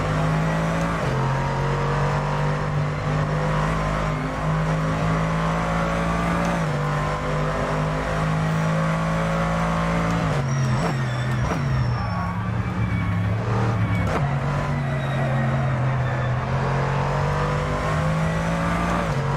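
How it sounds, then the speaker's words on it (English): V8 GT2 race car engine in a racing game at Mugello, droning loud and close on the start-finish straight with steady high revs, brief dips and surges around upshifts midway, no voices. "Let's open up that V8"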